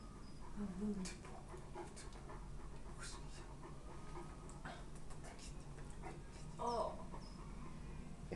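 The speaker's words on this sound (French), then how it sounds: "Qu'est-ce que tu fais là, mauvais chien?" A small dog pants steadily close by, its breath mixed with a few brief whimpers and soft squeaks, while someone speaks to it from time to time in a home setting.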